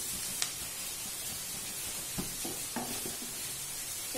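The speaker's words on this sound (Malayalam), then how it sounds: "ഇതിലേക്ക് കുറച്ച് ഉപ്പും കൂടി ചേർത്ത് കൊടുക്കാം അപ്പം നമ്മുടെ സവാള പെട്ടെന്ന് അങ്ങ് വഴന്ന് കിട്ടും" Sliced onions with salt sauté in a pan for onion chutney, producing a soft steady sizzle with occasional quiet stirring clicks and scrapes, close and low in level.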